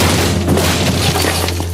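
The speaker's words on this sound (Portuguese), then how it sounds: "veio a terceira pancada e com ela a porta veio abaixo" A heavy blow smashes a door down, heard as loud thudding, crashing impacts over a steady low hum, with several sharp bursts in quick succession.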